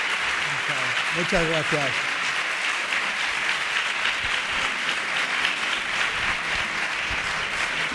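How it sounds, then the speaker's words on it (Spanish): Audience at a national congress in Córdoba applauding a speaker, sustained dense clapping filling the room, with a brief spoken thank-you heard near the start over the applause. "con este aplauso yo creo que da respuesta al agradecimiento por tu intervención"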